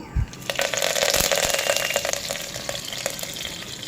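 Mustard seeds and curry leaves hit hot oil in a cooker, a bright crackling sizzle with scattered pops and spits that swells and then settles, close by.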